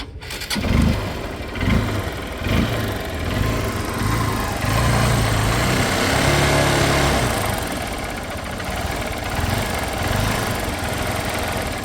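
A used vehicle that had sat unused for several days starts up and runs. It gives a loud, close, continuous engine drone with slight rising and falling revs throughout and no talk.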